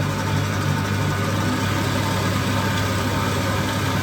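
A steady, continuous motor whir of an electric mixer whipping cream for chantilly, running close by, constant and loud with no pauses.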